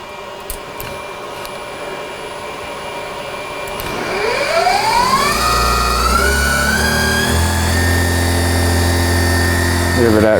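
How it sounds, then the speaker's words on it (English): On a lathe, a spindle motor for machining an RC truck part winds up from quiet to a steady high whine of about 5,200 RPM. The whine holds loud and close with no one speaking. "let's kick that spindle on"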